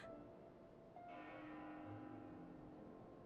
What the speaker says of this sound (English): That bell sound must be coming from somewhere.